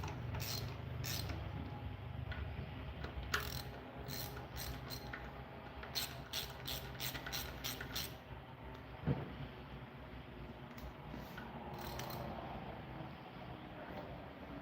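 Bursts of quick metallic ratchet clicks as a harmonic balancer puller is tightened on an engine being pulled for repair, close by and moderately loud, separated by pauses and a faint steady background hum.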